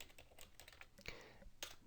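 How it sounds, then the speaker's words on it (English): Quick, irregular keystrokes on a computer keyboard while entering data into an Excel spreadsheet, with a few sharper clacks mixed in, fairly quiet and close, with no speech. "So press the enter key once I finish typing"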